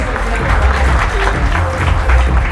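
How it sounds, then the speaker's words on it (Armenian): Applause from a crowd at a Muay Thai boxing event as referees are introduced, a dense patter mixed with low rumble and some voices underneath. "ծափահարություններ"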